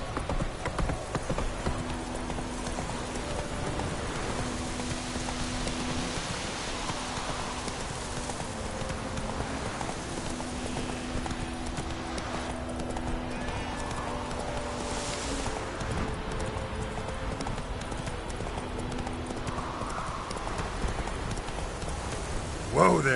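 Steady clip-clop of the horse Roach galloping through The Witcher 3, a rhythmic hoofbeat running throughout with faint rain and insect ambience beneath and a voice talking over it.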